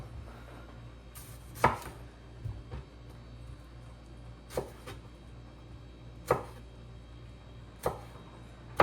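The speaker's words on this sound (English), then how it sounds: "we're going to chop the tomato finely too" A knife chops tomato finely on a board, landing about seven distinct, crisp strikes spaced a second or so apart over a quiet background, with no talking.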